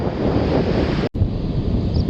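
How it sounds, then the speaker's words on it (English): Surf waves and wind on a beach, a loud continuous roar of breaking water and gusting wind buffeting the microphone, with a brief dropout near the middle. "there's a bit of a surf running out there"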